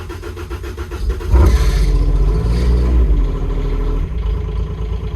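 A heavy diesel digger engine, suffering a dirty fuel problem, turns over and revs hard, a loud sustained roar with clattering that holds steady before easing slightly.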